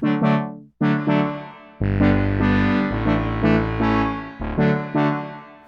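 Brassy polyphonic synthesizer chords played in a series with a reverb effect, each note ringing out with a reverberant tail that lingers and fades between hits.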